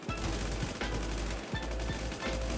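Gunfire in the survival shooter Warz: a dense, steady crackle of shots runs through the whole stretch, with a few sharper cracks standing out near and loud, no voices over it.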